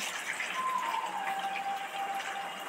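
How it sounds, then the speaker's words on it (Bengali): Water pours steadily into a pot in a kitchen, a continuous close splashing gush with a rising filling tone, and no voices. "একটা পাত্রে কিছুটা জল নিয়ে নিচ্ছি।"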